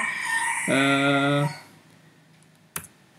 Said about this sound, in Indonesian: Suara ayam berkokok terus.